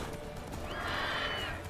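The horse in The Witcher 3 lets out a single clear neigh, a rising then falling whinny over a dense steady game soundscape with faint hoof clatter underneath.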